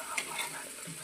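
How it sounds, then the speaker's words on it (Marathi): Garlic and green chili chutney frying in a pan, a steady close crackling sizzle with faint stirring scrapes over about a second, no voices. "तोपर्यंत हे ब्राऊन होत नाही तोपर्यंत असं फ्राय करत राहायचं 10-15 मिनिटापर्यंत."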